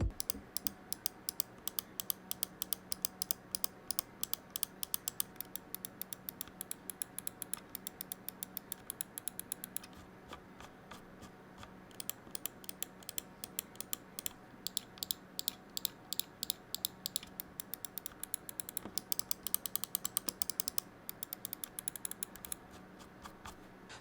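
Pwnage Symm 2 gaming mouse clicking rapidly and steadily for a long stretch, with brief changes in rhythm as the scroll wheel ticks and its button is pressed, close and crisp with no talking.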